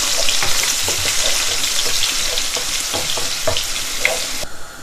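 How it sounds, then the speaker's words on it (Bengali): Garlic fries in hot oil with a loud, continuous, close-up sizzle, dotted with small pops and crackles, easing slightly toward the end. "তেলটা গরম হয়ে গেছে, এখন আমি রসুন দিলাম।"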